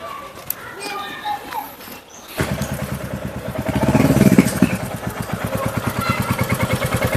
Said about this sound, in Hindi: जा रहे हैं ड्राइव करने के लिए अपनी हंटर 350